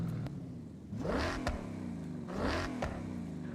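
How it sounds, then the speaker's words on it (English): A V8 car engine in the Forza Horizon racing game with an aftermarket exhaust revs twice, each rise building to a loud raspy roar before dropping back to a throbbing idle. "The coyotes get a little raspy once you add an exhaust system to them."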